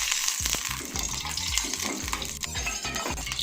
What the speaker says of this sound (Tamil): இப்போ நம்ம முந்திரி பருப்பு வறுக்கிறதுக்காண்டி கொஞ்சோண்டு நெய் சேர்த்துக்குவோம்.